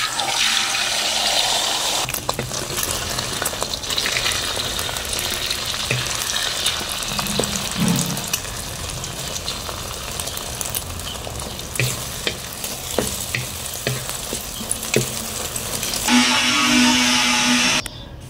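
Eggs frying in hot oil in a pan for tomato scrambled eggs with leeks: a strong, continuous close sizzle with scraping stir noises and occasional clinks, swelling louder near the end.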